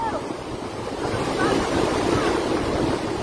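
Water overflowing La Mesa Dam after its rubber gate broke, a steady loud broadband rush of heavy flowing water with wind buffeting the microphone, continuous throughout.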